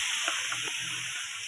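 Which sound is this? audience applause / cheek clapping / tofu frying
tofu frying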